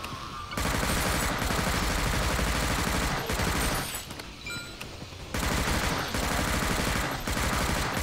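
Rapid, high-rate automatic fire from a gun in the shooter game Unkilled, long dense bursts with a brief pause in the middle, loud and close, with no talk.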